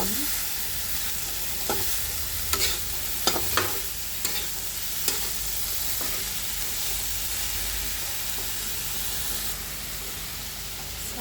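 Grated carrot fry sizzles in a pan with salt added while a spoon stirs it, a steady close hiss of frying broken by several sharp scraping clinks of the utensil.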